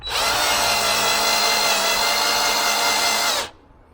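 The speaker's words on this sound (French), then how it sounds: "je perce pas tout avec l'outil là, mais c'est déjà guidé un maximum quoi" A power drill bores a hole held steady by a guide tool, a loud continuous whine for about three and a half seconds before it cuts off abruptly, close and with no voices.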